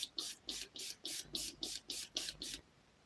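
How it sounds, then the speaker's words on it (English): Nine quick, even bursts of hissing spray from a pump bottle, close and fairly quiet, each about a quarter second, then silence. "Just going to give these a bit of a spray again."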